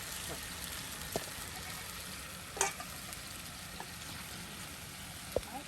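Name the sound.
fish frying with spices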